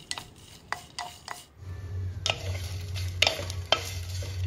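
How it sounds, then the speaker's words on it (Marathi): Peanuts, sesame seeds, green chillies, ginger and garlic dry-roasting in a clay pan, with a faint crackle and several sharp scraping stirs of a spoon, close and fairly quiet. "शेंगादाणे, तीळ, 4 हिरव्या मिरच्या, 1 अद्रकचा तुकडा, 1 लसणाची गड्डी सर्व व्यवस्थित भाजून घ्यायचं आपण"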